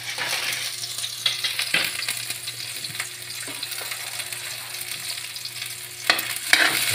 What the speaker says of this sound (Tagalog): Ginigisa na ang pakbit.